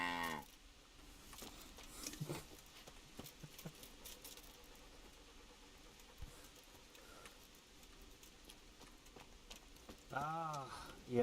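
A cow moos in the medieval open-world game Kingdom Come: Deliverance, a fairly loud bellow near the end after an opening call, set over quiet ambient game noise with talk faintly present.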